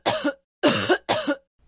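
A woman gives three harsh, close coughs in quick succession, each a short rough burst separated by brief pauses, with no other sound around them.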